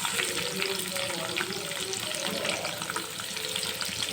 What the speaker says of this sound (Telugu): జీలకర్ర ఆవాలైతే వేగినాక ఒక రెమ్మ కరివేపాకు ముందుగా కట్ చేసి పెట్టుకున్న ఆనియన్